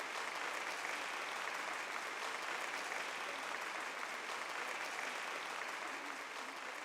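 Applause at a school annual day award ceremony, with a large audience clapping steadily and densely the whole time, close and even in loudness.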